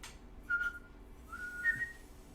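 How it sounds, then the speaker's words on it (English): Someone attempting to whistle, producing a few short, thin, wavering tones with breathy gaps between them, faint and close in a quiet room, no speech. "I was just trying to figure out if I could whistle."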